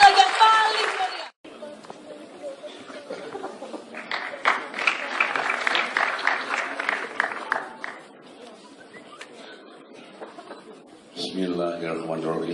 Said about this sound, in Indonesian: Tepuk tangan sekali lagi yang paling meriah